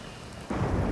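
Rain falls in a video game, and halfway through a burst of thunder swells in, its rumble thickening the steady patter.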